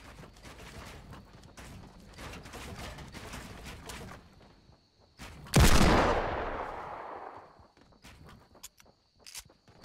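Gunfire from Fortnite Battle Royale: a scattered patter of small shots and footsteps, then one loud, sharp blast that rings out and decays over a second or two, followed by faint clicks.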